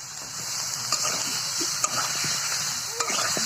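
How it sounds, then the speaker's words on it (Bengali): Chicken and potatoes fry with spices in a pan while being stirred, giving a steady, close sizzle with scattered scraping and clicking stirs throughout. "আমাদের মশলা দিয়ে মাংস এবং আলুটা কিন্তু সুন্দর মতো ভাজা চলছে"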